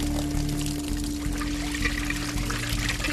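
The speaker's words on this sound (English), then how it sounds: "The contents of the stomach come gushing out." Alligator stomach contents, flushed out after fresh water is pumped into the gut, gush and pour in a steady loud splashing stream of liquid with no talk.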